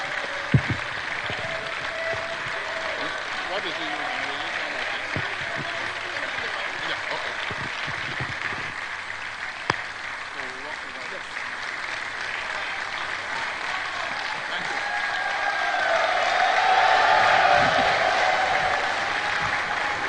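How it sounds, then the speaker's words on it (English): Sustained applause fills a hall at a formal management retreat as a speaker heads to the podium, steady crowd clapping continuing throughout and swelling slightly toward the end. "Ladies and gentlemen, a round of applause for Madam Lanre Isa Onilu as he makes his way to the podium"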